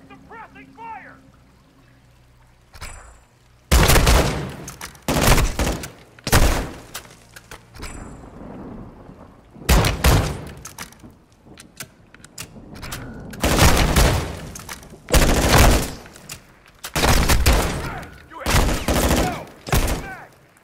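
Heavy bursts of automatic gunfire in Call of Duty Modern Warfare 2 on PS5, loud, close volleys lasting a second or two each, repeating in irregular bursts with quieter pauses between, alongside shouted voices.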